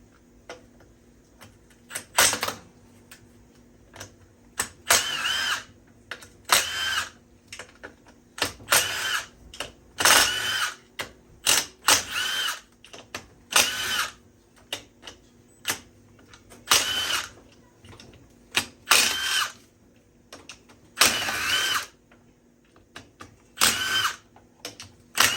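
Bursts of ratcheting from an 8mm tool loosening the clutch cover bolts on a Yamaha YXZ 1000, repeated short clicking runs separated by quiet pauses, close and fairly loud with no talking.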